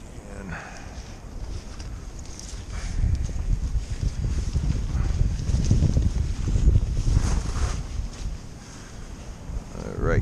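Wind gusting on the Appalachian Trail, a low buffeting rumble that swells and fades against the microphone, strongest in the middle, with faint rustling over it.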